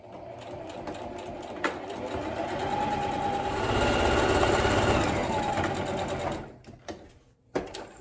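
A sewing machine stitches along the edges of a 3D octagon fabric mask with an integrated filter, a close rapid mechanical whir that builds, holds steady, then slows and stops with a few clunks.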